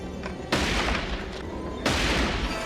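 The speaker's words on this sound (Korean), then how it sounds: "총성이 들려옵니다" A burst of rapid gunfire cracks out, pauses, then a second loud volley follows, harsh and close with a ringing, noisy tail.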